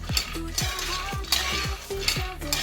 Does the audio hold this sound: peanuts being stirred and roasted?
yes